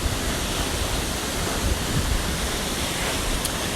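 Steady, broadband rush of splashing water at the Coban Rondo waterfall, continuous and fairly loud throughout with no voices.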